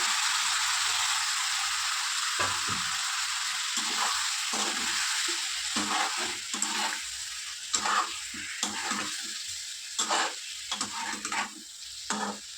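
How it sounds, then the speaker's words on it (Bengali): Snakehead fish (shol) sizzles loudly in hot oil with garlic in a pan, a steady dense crackle punctuated by sharper spits and pops throughout. "মাছটা দিয়ে দেবো শোল মাছ এটা"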